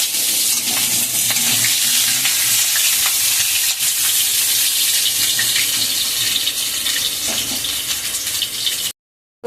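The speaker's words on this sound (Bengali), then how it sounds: "এবার আমি আলুগুলো ভেজে নেব" Potato pieces fry in oil in a pan for a country chicken and egg curry, sending up a constant, loud sizzle with stirring scrapes. It stops abruptly into silence at the end.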